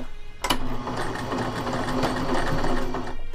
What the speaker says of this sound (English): so we're doing forward stitch